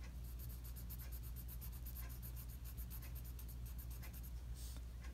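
A pen scratches steadily across paper, filling in boxes with rapid rhythmic strokes, close and faint over a constant low hum.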